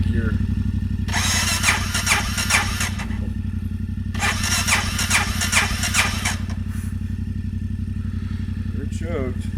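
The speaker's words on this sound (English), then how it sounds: "I don't know how many times I can turn the motor over with this battery." Motorcycle engine cranked over on its battery at a campsite, two long bursts of rapid mechanical cranking that fail to catch, over a steady low hum, close and loud.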